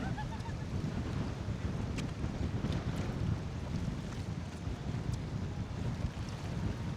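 Wind buffets the microphone at Bora Beach in Ksamil, Albania, at sunset, a constant low rumble mixed with the wash of waves, steady and close throughout with no clear voices.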